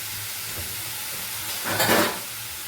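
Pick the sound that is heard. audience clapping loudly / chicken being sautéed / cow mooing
chicken being sautéed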